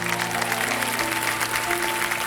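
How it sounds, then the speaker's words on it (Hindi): Steady applause from a TV quiz show studio audience, dense and continuous, with some faint voices mixed in. "तालियों के साथ इनका स्वागत किया जाए"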